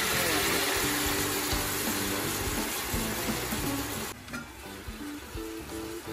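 Pork leg sizzles in a hot pan, a loud steady frying crackle that drops back to a softer simmer near the end, with a voice talking over it.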